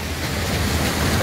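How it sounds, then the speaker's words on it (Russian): Steady broadband rush of water gushing from a pipe at a hotel lazy river, close and continuous, with no voices. "Прямо перед нами труба с извергающейся водой."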